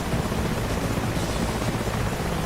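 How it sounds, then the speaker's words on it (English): Rotor noise from a Mi-8 and an Apache helicopter in a DCS World dogfight fills the clip as a dense, steady whooshing roar, fairly loud and continuous with no voices. "It's an Mi-8 versus an Apache."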